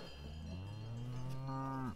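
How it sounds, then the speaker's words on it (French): A cow on a mountain pasture lets out a single long, deep moo, close and clear, rising slightly in pitch before cutting off, with a faint cowbell-like ring in the quiet open air. "Je me fais courser par une vache."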